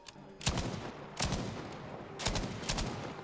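Gunfire in the Battlefield V World War II shooter game, a few loud bursts of shots spaced about a second apart over a continuous rumbling battle background, no talking.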